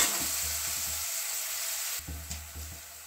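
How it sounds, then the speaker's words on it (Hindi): Food fries in a pan while a kachori filling of potato and semolina is cooked, giving a steady hiss of sizzling oil with soft stirring knocks and scrapes, close and with no voices. "हल्का सॉफ्ट होने तक फ्राई कर लेंगे।"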